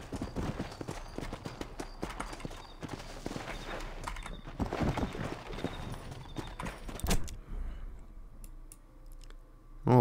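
Steady clip-clop of horse hooves at a walking pace in Red Dead Redemption, close and rhythmic, with game-like ambience; the hoofbeats fade near the end.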